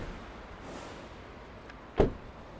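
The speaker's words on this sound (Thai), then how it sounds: "ให้ปิดประตูแคปก่อน" A pickup truck cab door on an Isuzu D-Max shuts with a single short thud near the end, otherwise quiet room tone with no talk.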